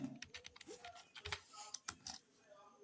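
Quiet, uneven clatter of keystrokes on a computer keyboard as a short word is typed, a dozen or so close taps in quick irregular bursts with small pauses, alone in a still room.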